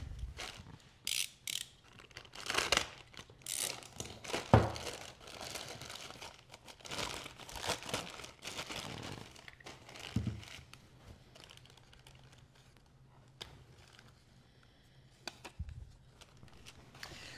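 Packaging around a Rali jack plane being cut open and handled, giving irregular crinkling, tearing and rustling bursts with a few sharp clicks, close and moderately loud, no voices.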